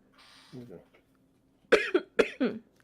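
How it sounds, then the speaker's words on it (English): A few short, sharp coughs come in quick succession, close and loud, after a brief murmur of voice. "I got a cough in my throat"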